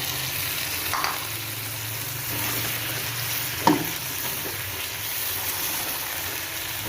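Beef frying in a karahi for restaurant-style karahi gosht, a steady moderate sizzle with a few brief stirring clanks, one sharper scrape midway, and no voices.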